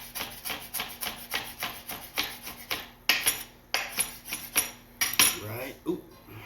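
Knife slicing rolled basil into chiffonade on a cutting board in a home kitchen, a quick run of about a dozen close, crisp chopping taps with short scrapes and a final clatter of utensils.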